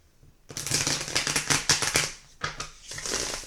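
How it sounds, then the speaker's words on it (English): A deck of tarot cards is riffled and shuffled up close in a quick series of crisp, papery flutters. A short pause follows, then another softer shuffle. "And then I'll shuffle them again to set the intention."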